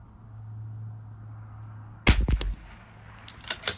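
A Bergara B14R Carbon rifle fires Eley Team ammunition on a 200-yard range: one sharp, loud report about midway, ringing briefly, with a low steady hum before it and faint clicks after.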